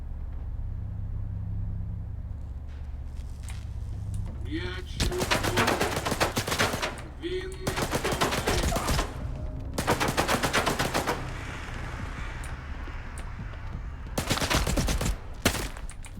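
Automatic gunfire crackles in the STALKER 2 video game, coming in several loud, sustained bursts separated by short pauses. A low rumble sits beneath the shots.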